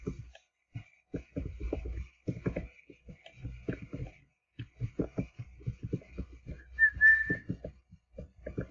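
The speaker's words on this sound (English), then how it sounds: "my whistling actually isn't that good" Someone attempts to whistle, making faint, broken tones over a busy background of other sounds during a Roblox game, with one brief clearer note partway through.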